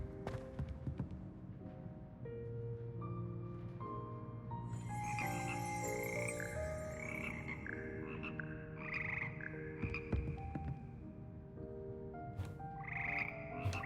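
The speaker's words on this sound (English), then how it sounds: "Here appears the slimy yet symphonic frogs that comprise the Hogwarts frog char." Hogwarts frog choir from the video game Hogwarts Legacy: a dense chorus of croaks layered over steady tonal music and chimes, continuous and fairly loud, with no talk.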